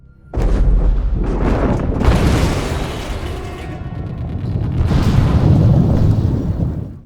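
Explosion aboard the spaceship Galactica in a TV series: a loud, sustained roaring blast that rumbles heavily, eases slightly, then swells again before cutting off.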